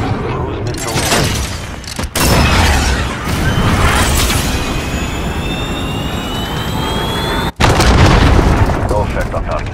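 A cruise missile strike in a modern military shooter game, a loud roaring jet-like rush with heavy blasts and rumbling explosions, cut by two sharp breaks, with radio voices talking over it.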